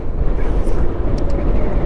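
Steady wind rumbling and buffeting close to the microphone on a road from Cabatuan to Oton, Iloilo, a continuous low roar with no voices.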